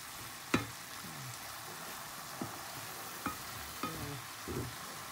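Ground meat sautéing with onion, garlic and black pepper in a pan, a steady moderate sizzle broken by a few sharp spatula knocks and scrapes at irregular intervals, close, with no voices.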